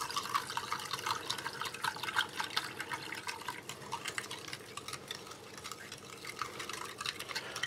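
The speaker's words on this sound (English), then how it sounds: "I'm just going to make use of a Russian spoon just to stir this." A spoon stirs coarse, granular gravy mix from a Norwegian Arctic field ration in a continuous close scraping and swishing, with small clinks and wet sounds throughout.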